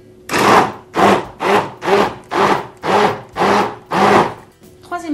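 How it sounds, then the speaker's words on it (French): An immersion blender purées canned ratatouille in short repeated pulses, about eight bursts of whirring with brief pauses between, close and loud with no talk. "je prends mon mixeur plongeant et avec un petit peu de bruit, je mixe"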